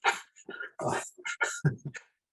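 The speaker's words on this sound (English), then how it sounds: "I think I heard, was it Nell's dogs barking that it's time for me to talk about?" Several dogs barking and yipping in short, loud bursts at close range, with a few whimper-like calls among them and no talk over them.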